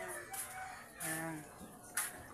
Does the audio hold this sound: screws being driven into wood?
no